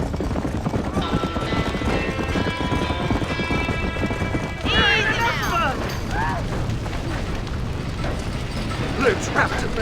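Horse hooves clip-clop steadily in the video game Red Dead Redemption near a burning barn, a loud rhythmic gait running throughout, joined midway by a whinny and mechanical clatter, with voices speaking over parts of it.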